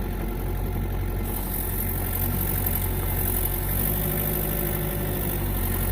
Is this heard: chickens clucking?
no